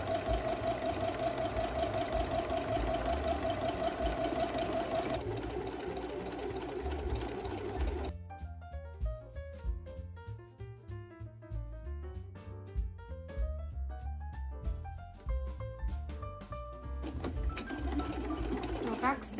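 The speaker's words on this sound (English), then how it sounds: "I'm just going to sew this to the bear's head." Sewing machine stitching fabric onto a handmade toy bear's head for a baby sensory toy, a steady loud mechanical whir running throughout with rhythmic needle knocking and brief changes in speed.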